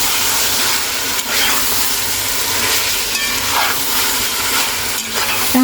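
Onions with salt sizzle loudly in a hot pan, a dense steady hiss broken by faint scraping stirs, with no talking.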